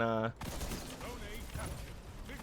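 Hand cannon fire in the video game Destiny 2 comes as a sharp shot near the start, then lighter game noises, with someone talking over it.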